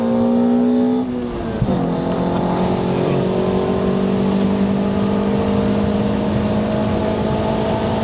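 A 1998 Toyota Altezza RS200 Z Edition engine revs hard, with a brief dip before the pitch climbs again into a sustained, loud high-rpm wail.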